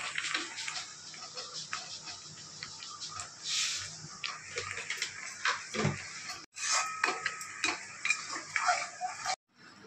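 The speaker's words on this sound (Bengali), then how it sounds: "চাটনিটা হয়ে এসছে, এখন একটু চিনি দিয়ে ভালো করে নেড়ে চেড়ে নামিয়ে।" Mango jelly chutney with sugar is stirred in a pan at home, giving light scraping and clinking of a spoon against metal in irregular bursts, fairly quiet with occasional sharper knocks.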